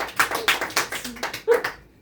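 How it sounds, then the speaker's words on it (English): A round of applause for a player at a game night table, heard as a quick series of loud, sharp claps that fade out after about two seconds. "Please give him a round of applause."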